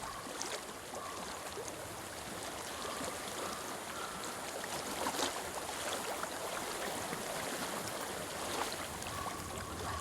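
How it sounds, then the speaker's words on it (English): Flowing stream water in the video game Hellblade: Senua's Sacrifice, a steady soft babbling wash with faint trickles, continuous and moderately distant, without voices. "I hear water."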